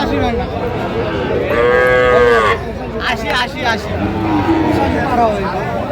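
A Sahiwal bull at a busy cattle market gives a loud, close moo lasting about a second, followed by shorter lowing calls, while crowd chatter and bargaining voices carry on throughout.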